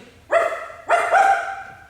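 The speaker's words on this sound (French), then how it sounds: "Un chien errant tourne autour et s'approchant du jeune homme pose une patte sur lui." A stray dog barks twice on stage in a play, two loud, clear separate barks, the second longer and more drawn out, with a quiet room background.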